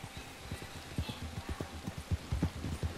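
Horse hooves pounding at a steady gallop in Red Dead Redemption 2, a rhythmic clip-clop of repeated low thumps running close and continuous across the whole stretch.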